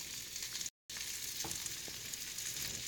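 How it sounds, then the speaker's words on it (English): Soup in a pot with a fork stirring through it, heard as a soft continuous hiss with a few faint clinks, broken by a brief moment of silence near the start. "Let me get my fork and begin the stirring."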